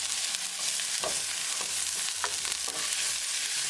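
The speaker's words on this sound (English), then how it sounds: "Now we're going to add onion, and we're going to saute onion really well." Chopped onion sautéing in hot oil for a chicken tikka curry, a steady close sizzle and crackle with occasional scraping strokes of a spoon stirring the pan, no voices.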